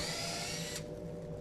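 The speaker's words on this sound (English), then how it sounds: "To create your pocket holes, guide the drill bit into the drill guide hole of your choice." Power drill boring pocket holes into wood through a Kreg jig guide, a steady close whine of the spinning bit that cuts off sharply partway through, leaving a lower hum.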